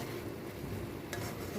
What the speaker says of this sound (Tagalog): Gisa-gisa para mabango.